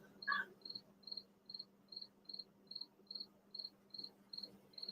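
A single cricket chirps in a steady, evenly spaced rhythm of short trills, about two per second, faint against a low background hum.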